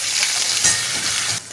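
Potatoes frying in oil with cumin in a pan, a steady close hiss of sizzling that drops away at the end, with no talking.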